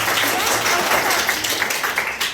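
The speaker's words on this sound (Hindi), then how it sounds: "तो इस ग्राम सभा के लिए एक जोरदार ताली तो बजनी ही चाहिए" A class of students claps in brief, dense applause with some voices mixed in.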